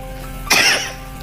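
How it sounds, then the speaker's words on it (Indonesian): A single sharp cough bursts out close by during an Islamic religious lecture, abrupt and loud, then fading quickly back into a quiet room hum. "Batuk."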